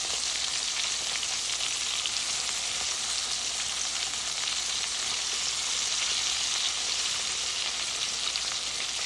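Chicken tenders shallow frying in a pan of oil give off a steady, bright sizzle with soft crackles, constant and close throughout with no talking.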